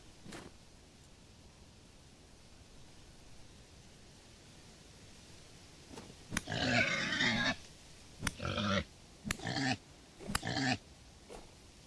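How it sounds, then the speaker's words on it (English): Pigs grunting in a video game, a quiet hissy background broken by several short bursts of grunting and snuffling in the second half, each lasting under a second. "Oh, we found pigs!"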